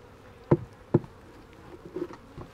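Bees hum faintly at an opened beehive, broken by a couple of sharp knocks from handling the hive box, with scattered buzzing from insects flying close.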